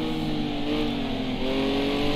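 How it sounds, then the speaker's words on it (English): A turbocharged Group 5 race car at Hockenheim Classic in a sim racing game, its engine droning loud and steady at high revs for the whole moment, close and unbroken, with no voices. "Now the turbo on these cars is utterly vicious."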